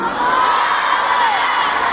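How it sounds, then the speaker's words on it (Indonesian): Children chant takbir together inside a mosque during a Maulid Nabi celebration at an elementary school, a loud, sustained mass of young voices filling the room without a break. "Untuk yang tertib ini kita sama-sama takbir."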